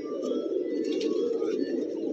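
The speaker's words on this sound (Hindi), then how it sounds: "350 कबूतर इस टाइम छत पे मौजूद।" A large flock of pigeons, some 350 fancy Peshawari birds, coos steadily on a rooftop loft, a dense continuous murmur of soft calls close by with a few faint chirps above it.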